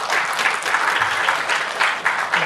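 An audience at a medical conference on healthcare breaks into applause, a steady, dense spell of many hands clapping at moderate distance for a couple of seconds.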